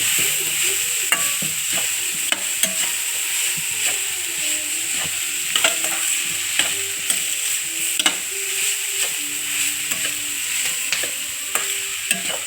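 Chopped boiled potato stir-fried in a pan for cauliflower paratha filling, a steady sizzle with repeated sharp scrapes and knocks of the spatula against the pan, near and alone.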